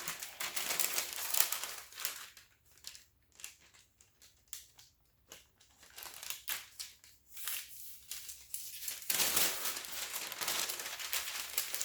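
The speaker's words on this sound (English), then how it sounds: "now I can put my parchment paper back on it" Parchment paper placed and smoothed over a diamond painting canvas, giving close crinkling and rustling paper sounds with rapid crackles, alternating with brief quieter pauses, no talking.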